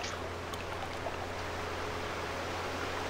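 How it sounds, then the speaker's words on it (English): Steady, loud broadband roar of a waterfall in the Farming Simulator 17 game world, a constant rushing wash of water with no breaks, heard alone throughout. "That waterfall is so loud."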